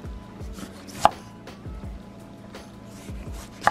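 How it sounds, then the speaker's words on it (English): A kitchen knife chops through limes on a board, with repeated soft thuds and cuts in an uneven rhythm and two sharper knocks, close and fairly quiet with no talk. "Now you're gonna have to cut the limes."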